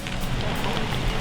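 Rain falling steadily during a mountain bike enduro race in Tasmania, a dense continuous hiss of drops spread across the whole moment with a faint low rumble beneath, no clear voices.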